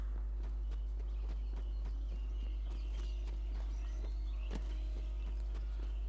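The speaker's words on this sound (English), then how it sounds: "definitely hear the sound of a whinny. A neigh, if you will. Some sort of horse noise." Horse hooves clip-clop at a steady walking pace amid faint game ambience in the video game Tiny Tina's Wonderlands, with a few brief bright chirps overhead.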